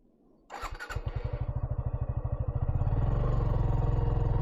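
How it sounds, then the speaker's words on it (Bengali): A Suzuki Gixxer 150 FI motorcycle fires up on the electric self-starter: a brief starter whirr, then a rapid, even pulsing engine note that settles into a louder, steady idle close by. "বাইক কিন্তু সেলফ দেওয়ার সাথে সাথে স্টার্ট হয়ে গেল"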